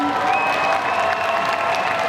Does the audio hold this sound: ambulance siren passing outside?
no